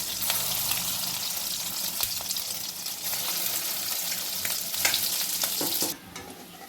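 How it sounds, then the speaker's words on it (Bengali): Lentil fritters (bora) frying in hot oil: a loud, continuous bright sizzle with occasional crackles and stirring clicks, easing sharply quieter near the end, with no talk. "তেল আমার গরম হয়ে গেছে, এবার আমি একটা করে বড়া ছেড়ে দেবো।"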